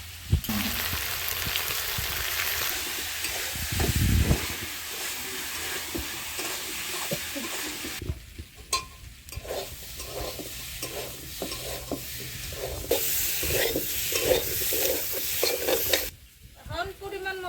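Ginger and green chili paste sizzling in a hot pan while being stirred, for a katla fish dish with colocasia. A continuous close hiss runs throughout, broken by scraping stirs and brief louder bursts.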